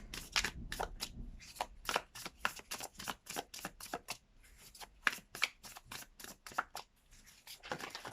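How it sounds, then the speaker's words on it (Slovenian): Playing cards are shuffled by hand in a fast series of crisp riffle bursts and snaps, close and fairly quiet, with brief pauses between rounds. "Dajmo zdaj na hitro pomešati karte."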